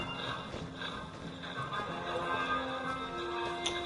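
Horse hooves clip-clop faintly in the King's Quest video game, a soft irregular patter of hoofbeats under a quiet game background.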